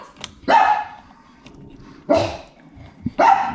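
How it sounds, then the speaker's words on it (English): A dog barks indoors in a workshop during a Harley Twin Cam motor teardown, three loud, close barks spaced a second or so apart with quiet shuffling in between. "Don't bark while I'm making videos here."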